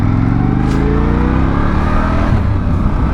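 A 2025 Indian Scout Bobber motorcycle engine pulls hard through mid-range revs, a loud, close, continuous rising growl with no talking.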